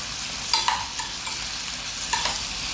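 A spatula stirs mixed vegetables for a sauceless vegetable chop suey in a hot pan, with a steady sizzle underneath and several distinct scraping strokes at close range.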